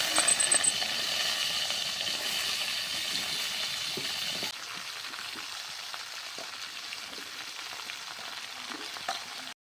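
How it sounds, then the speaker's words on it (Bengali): Washed taro leaves (kochu shaak) hit hot oil in a wok, giving a loud, steady sizzle and fry that eases to a softer, even crackle halfway through, with a few faint stirring clinks and no voices. "তেল গরম হয়ে গেছে, ধুয়ে রাখা কচু শাকটা দিয়ে দেব।"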